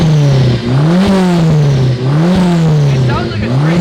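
Nissan S15 Silvia with a VVL four-cylinder engine running just after its first start, loud and close, its deep note climbing and dropping through several quick revs.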